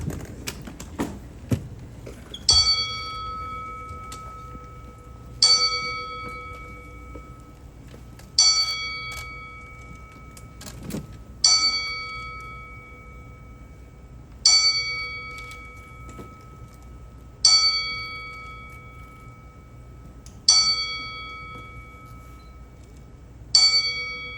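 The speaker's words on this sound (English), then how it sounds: "We will toll the bell 10 times in the memory of Jose Santa Cruz and Mike the Body Snatcher McCallum." A ceremonial boxing bell at a Los Angeles press conference rings out in slow, evenly spaced single strikes about every three seconds, each bright clang decaying in a sustained metallic ring, with a quiet hall behind and no talk.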